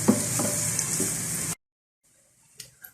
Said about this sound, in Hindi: प्याज का कलर ट्रांसपेरेंट होने तक इसे फ्राई करें।